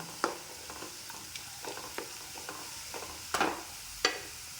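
Soya chunks sautéed and stirred in a pan for a dry roast, with a low steady sizzle under intermittent scrapes and knocks of a spatula, a few louder strikes near the end.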